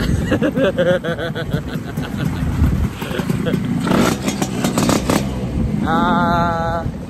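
Idling two-stroke motorcycle engine on a cold mountain ride, a steady nearby putter under ongoing talk, with a brief higher whine near the end.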